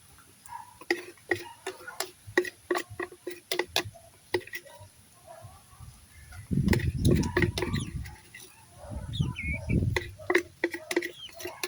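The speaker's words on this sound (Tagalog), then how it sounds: "Yan na po yung ating mga manok" Farm chickens cluck and scratch around nearby, with soft clicks and low rustling bursts. People talk quietly over the birds throughout.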